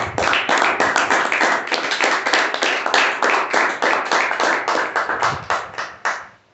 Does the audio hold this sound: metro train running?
no